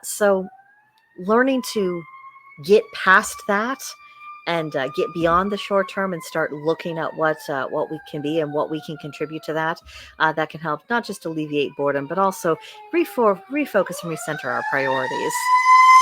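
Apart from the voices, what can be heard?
fire truck siren passing outside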